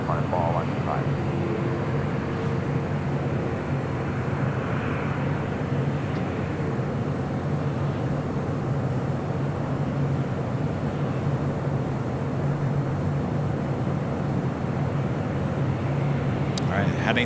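An airliner rolls for takeoff on runway 24 left at LAX, a loud continuous engine roar and rumble that holds steady throughout. Faint radio-like chatter sits underneath.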